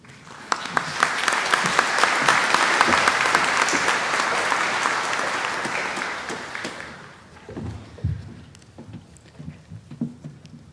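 A graduation ceremony audience applauds warmly to welcome a speaker, a dense, loud wash of clapping for about seven seconds that fades into scattered claps and shuffling.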